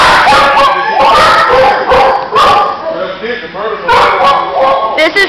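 A shepherd and a husky bark, yip and whimper in animal shelter kennels, loud and close with overlapping barks throughout. A person talks over them.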